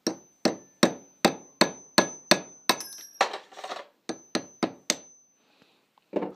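Sharp metallic taps in a steady rhythm, about a dozen strikes with a brief pause midway, close and crisp with no talking. A primer being tapped into a case with a drill bit, during Berdan to Boxer primer conversion.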